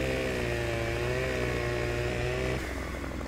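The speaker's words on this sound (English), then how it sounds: "We'll turn this Husqvarna chainsaw on" A Husqvarna chainsaw runs in Farming Simulator 17, a loud, steady buzzing drone that holds at one pitch, then drops slightly as the engine eases near the end.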